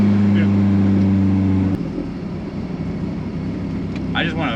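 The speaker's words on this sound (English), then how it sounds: "And here's with rolling anti-lag." A Toyota AW11 MR2 engine revs hard in a steady drone, then drops into a rougher, crackling idle with rolling anti-lag pops and bursts, loud and close.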